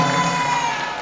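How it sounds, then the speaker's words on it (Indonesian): A school crowd cheers and claps at a grade 6 graduation celebration, a loud, dense burst of applause and shouting children over about one second that fades slightly toward the end. "Tepuk tangan."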